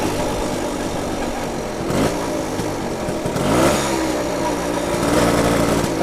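A 1967 BSA Bantam D10 175 motorcycle engine runs close and loud for the whole stretch, a steady buzzing two-stroke note with rises in revs around the middle and again near the end.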